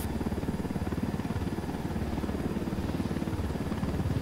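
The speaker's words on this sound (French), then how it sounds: "Oh, il y a un hélico de la police, fais attention." Police helicopter in Ghost Recon Wildlands video game, a steady rhythmic rotor thump with engine drone, loud and continuous throughout.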